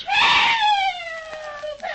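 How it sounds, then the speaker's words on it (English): A woman screams for help in a radio drama: one long, loud, high scream that slides downward for about a second, then trails off into a quieter wail. "It's Aunt Martha. She's screaming for help."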